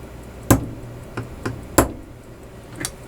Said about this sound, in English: Nice tap with the hammer